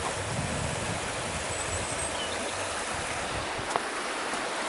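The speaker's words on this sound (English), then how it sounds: "let's have a look at the river." River flowing on a countryside walk near Denbigh, a broad steady rush of water with some wind noise on the microphone, continuous and fairly close, no voices.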